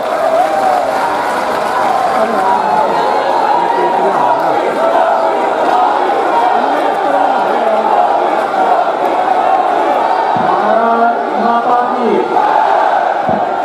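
A large crowd claps and cheers continuously, a dense, loud wash of applause with shouting voices mixed in throughout.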